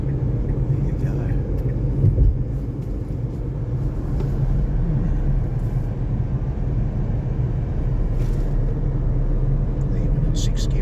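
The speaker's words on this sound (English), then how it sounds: "Even in 6th gear at 70 k an hour, it's got just enough torque to keep it going." A Dacia Duster 4x4 with a 1.2 petrol engine and manual gearbox cruising in sixth gear at about 70 km/h: a low, steady engine drone with road rumble under someone talking.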